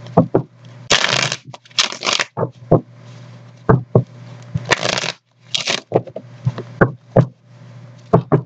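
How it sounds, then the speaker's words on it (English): Tarot cards being shuffled by hand, riffling bursts and soft slaps and taps of the deck repeating in short spells with pauses, close and fairly loud over a steady low hum. "couple more shuffles here"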